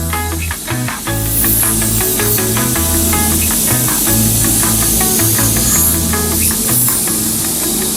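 A spray gun lays a coat of metallic paint in a steady, continuous hiss, with music playing over it throughout.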